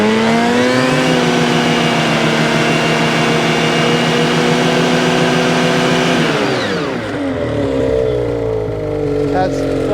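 A Ski-Doo snowmobile engine with a turbo muffler holds a loud, steady, buzzing high idle close by, then drops in pitch and settles to a lower, rougher drone near the end.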